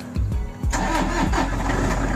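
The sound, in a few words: used Toyota diesel car engine starting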